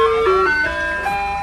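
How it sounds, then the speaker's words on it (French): An ice cream truck on its rounds through a Beijing art district neighbourhood plays a steady, bright chiming jingle that rings out clearly with no talk over it. "Il y a Carlos, le tonton qui arrive avec le camion à glace"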